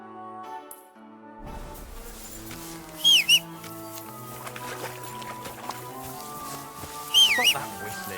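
Whistling in the video game Kingdom Come: Deliverance II, two short sliding whistled phrases a few seconds apart, heard over a soft musical score.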